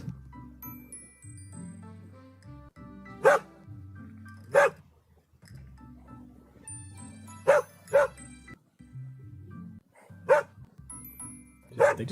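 Small puppy barking in a video game: sharp yips and barks come in short bursts of one or two, fairly close, over game music and background sounds.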